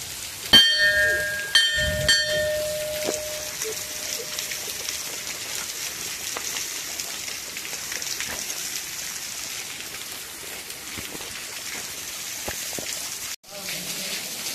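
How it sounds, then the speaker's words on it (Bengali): Waterfall at Shivgadi temple pouring constantly down from the hill, a steady broad wash of falling water, with a few sharp knocks and ringing clangs near the start. "ওই পাহাড়ের উপর থেকে অনবরত জল পড়ছে।"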